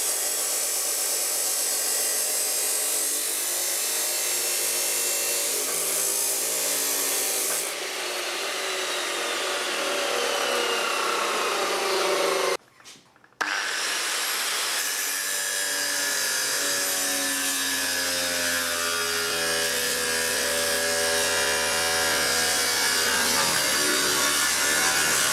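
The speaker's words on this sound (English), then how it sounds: "I like to do this one on the drop saw because you get a nice 90-degree cut straight down" A drop saw cutting reclaimed wood for an industrial-style wall cabinet gives a loud, sustained whine that shifts in pitch as the blade bites. It breaks off briefly midway, then cuts again, with no talk.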